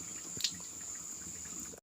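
Water runs in a home kitchen, a quiet, steady hiss with a brief splash near the start, ending abruptly after under two seconds.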